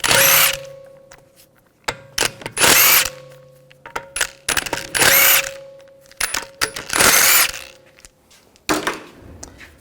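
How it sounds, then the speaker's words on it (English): A power tool with a 17mm socket spins lug bolts off a Volkswagen Jetta TDI wagon wheel in repeated loud, close bursts of whirring and rattling, with a steady whine between them and short pauses in between. "Using a 17mm socket, we're going to take the lug bolts out."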